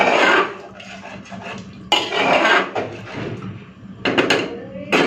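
Curry of spoiled potatoes being stirred together with biryani masala in a cooking pan, giving scraping and clattering utensil-on-metal sounds in bursts, with a louder flurry of scrapes near the end.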